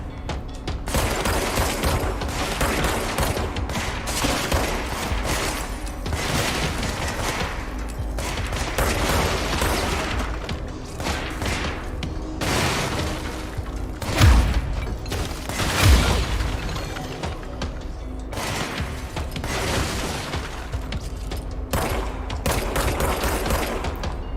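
Powerful gun firing in the video game Control, repeated loud shots and bursts filling the whole stretch, with two heavier booming hits midway and no speech.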